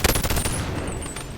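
Gunshots in the BONELAB VR game: a rapid burst of several loud, close shots, then a reverberant tail that fades out, with no talking over it.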